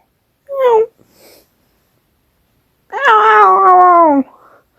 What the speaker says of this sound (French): qu'est-ce que tu fais ici, petit chat?